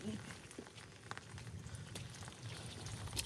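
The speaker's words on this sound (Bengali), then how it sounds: "বৃষ্টি কী পরিমাণে এদিকে হচ্ছে বুঝতেই পারছেন।" Rain falling in a forest in the Sundarbans, a faint, steady patter of drops on leaves and the ground, heard from close by with scattered louder splashes and a little background noise.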